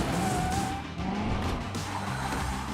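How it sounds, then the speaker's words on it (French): Screeching tire squeal from a Hot Wheels track-set scene, a loud continuous skid sound with engine-like roar running the whole time without pause. "Ou fais crisser les pneus."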